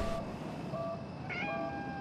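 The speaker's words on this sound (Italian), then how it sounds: "È un gattino. Bloccato." A stuck kitten lets out two or three faint, thin meows over a constant background hum, with no talking.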